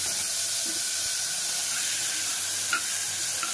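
Chickpeas and potatoes fry in a little oil in a pressure cooker, a close, steady sizzling hiss with a few faint clinks of stirring near the end.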